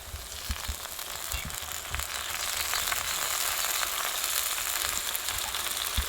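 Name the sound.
green garlic and tomato frying in a pan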